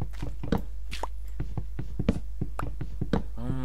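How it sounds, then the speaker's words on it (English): Repeated chopping on wood in Minecraft, a steady train of short knocking thuds about three or four per second over a constant low hum, with a brief burst of another game sound at the very end. "Cutting some more wood."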